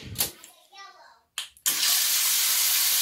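Water spraying from a stainless steel hand-held bidet sprayer at adjustable pressure, starting as brief bursts among a voice and some handling noise, then becoming a loud, steady hiss that carries on to the end.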